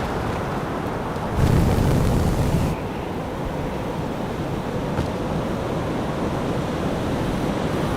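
Strong wind roars steadily through the Teardown video game, a loud broadband rush that swells in a brief louder gust before settling back, with no talking.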